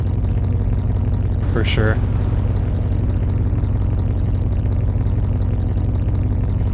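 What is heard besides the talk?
car engine idling with exhaust leak, Car Mechanic Simulator 2021 video game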